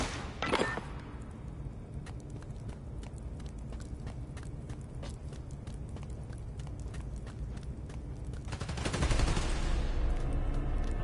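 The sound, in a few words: gunfire in Spider-Man video game, shooting power station transformers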